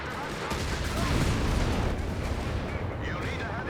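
A Sturm Panzer IV's heavy gun lands a hit in Company of Heroes 3, a deep booming blast followed by a rumbling, crackling roll of explosions that stays loud throughout, with a commentator's voice faintly underneath.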